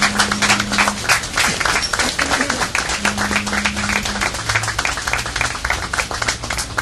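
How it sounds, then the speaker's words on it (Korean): An audience applauds at a Democratic Party leadership meeting in Korea, a steady dense patter of clapping lasting several seconds with a voice faintly present underneath. "여러분 뜨거운 박수 부탁드립니다"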